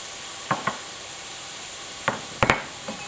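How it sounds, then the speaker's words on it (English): A spoon scrapes and stirs stir-fry rice and vegetables in a hot sizzling pan, with several short clattering strokes over a steady close frying hiss and no talking. "Making sure you're getting all of the ingredients in and you're mixing it up nicely"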